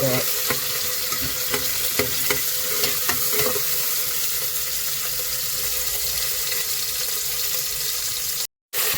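Onions frying in a pan after whole garam masala spices, producing a loud, continuous close sizzle with a few stirring knocks early on and a brief cut near the end.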